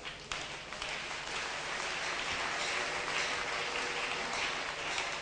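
A seminar audience on fish production claps in a steady, dense wash of applause at a distance, sustained evenly without talk.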